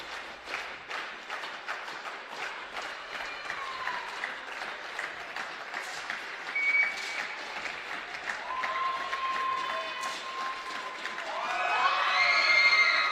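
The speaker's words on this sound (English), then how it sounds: "Murat Örgün claps along" A crowd at a 10-metre air pistol final applauds in scattered, rhythmic claps that build into louder cheering near the end, with whistles and shouts mixed in.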